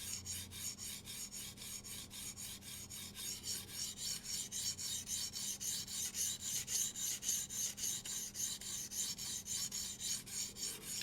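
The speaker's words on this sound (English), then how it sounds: "still a very coarse stone, but my intention is to just clean that bevel up, flip that burr, and further refine that edge" A kitchen knife is drawn across a coarse whetstone in steady, rapid back-and-forth strokes, a close, even rasping scrape repeating about twice a second with no talking.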